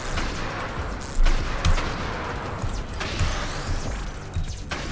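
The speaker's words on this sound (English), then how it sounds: "Everything is exploding." Dense explosions and gunfire from the Nimrods video game roar continuously, with heavy blasts punching through a constant crackle of shots and rockets.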